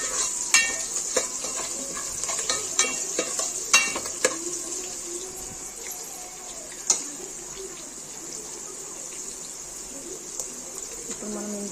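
Vegetables and green chillies frying in a sambar tempering, a steady soft sizzle with scattered clinks and stirring knocks, close and fairly quiet.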